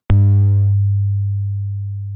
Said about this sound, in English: So here I've got Mathematica playing a sinusoidal tone,